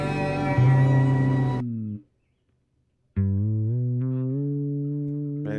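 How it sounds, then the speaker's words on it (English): A dry fretless bass guitar with no effects plays a long sustained note, falls silent for about a second, then sounds another held note that slides gently, close and clear with no voices. "So the dry sound of the bass is very boring."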